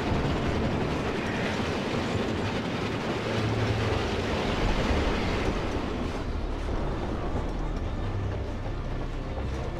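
A train rolling along in the video game Resistance 3, a loud, steady rumble and roar that runs throughout with faint clacking.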